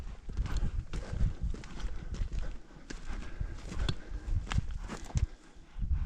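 Horse hooves walk with an uneven clip-clop rhythm during an outdoor horseback ride on a December day, the steps close and fairly clear over steady outdoor background noise.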